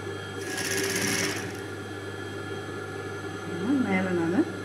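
A sewing machine stitches a V-shaped patti onto a blouse larger than 36 inches, giving about a second of rapid, close mechanical whirring before it stops and a voice talks over a low hum.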